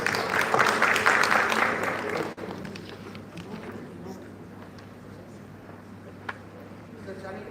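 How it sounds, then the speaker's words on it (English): Conference audience at Lincoln College University Malaysia claps for about two seconds, moderately loud, then the applause fades into a quiet room with scattered faint noises. "A round of applause,"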